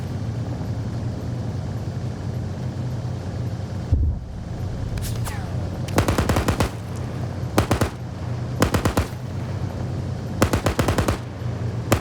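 Military video game battle with bursts of automatic gunfire and RPG blasts over a low rumbling background, several sharp volleys spaced out across the stretch, loud and close.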